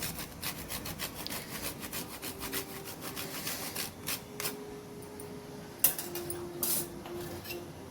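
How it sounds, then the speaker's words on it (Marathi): Nutmeg being grated over a bowl of homemade mango shrikhand, a steady run of dry scraping rasps close by, with a few light clinks of a utensil partway through. "आपण त्याच्यामध्ये थोडंसं जायफळ टाकू, छान लागतं. असं थोडं टाकायचं, किसून किसून"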